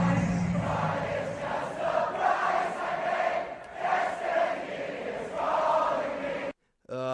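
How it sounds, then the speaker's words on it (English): A huge crowd at Michigan Stadium sings and roars together after the music is cut, a dense, swelling chorus of voices that rises and falls before abruptly going silent. "listen to this crowd"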